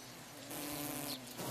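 Bees buzz close by in a continuous drone that swells midway and stays steady for a moment, alone without any voices.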